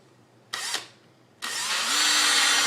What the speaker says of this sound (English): and then just drill out that hole.